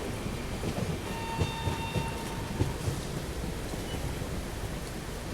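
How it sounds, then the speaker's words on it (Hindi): Steady heavy rain hisses throughout, with low rumbling and a few deeper booming thumps of thunder, heard aboard a train in northeast India. "बिजली भी कड़क रही है,"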